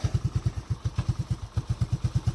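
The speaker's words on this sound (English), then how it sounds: "it's actually idling better than it has since I brought it here" A Honda Fourtrax ATV engine that needs carburetor adjustment idles close by, its rapid even chugging pulses running steadily with slight unevenness and no talk over it.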